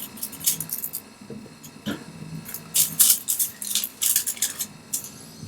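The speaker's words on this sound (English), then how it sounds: "now I'm going to take my craft knife and I'm going to cut around" A craft knife cuts around a wet moulded coaster, giving soft scraping and clicking sounds in bursts with bright, brief scratches close to the microphone and no talk.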